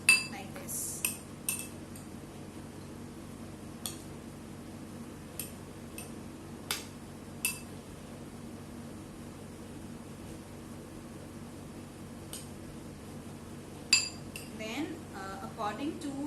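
A spoon mixes boiled potatoes into a sprout salad, giving sparse, light clinks against the bowl. They come at irregular intervals over a quiet background.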